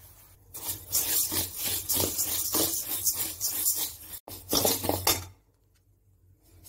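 Parboiled rice being dry roasted in a kadai over a gas flame, producing a steady scraping and rustling of grains stirred against the metal pan, loud and close for about five seconds before falling quiet.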